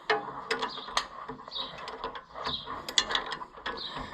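A wrench ratchets quickly in short clicking runs while tightening bolts on an Oliver 1365 tractor differential, close and fairly quiet, with no talking.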